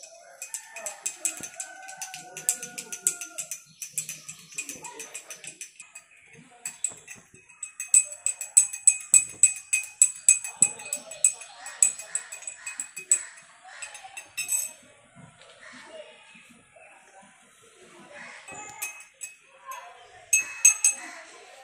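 Jaggery is stirred into water with a spoon, giving close, bright clinks against the vessel in a quick rhythmic run with quieter scattered taps before and after, and a voice talking at times.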